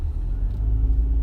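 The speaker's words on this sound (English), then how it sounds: "We're just in a car driving" Steady low rumble of a car driving on a rainy day, heard from inside the cabin. A continuous road and engine drone fills the clip without pauses, and no one speaks.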